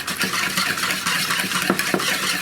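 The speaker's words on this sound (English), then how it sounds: "and just whisk it up." Salad dressing of mustard, mayonnaise, herbs, salt and pepper being whisked in a bowl, a quick continuous scraping and clicking of the whisk with a few sharper taps against the side, close and moderately loud.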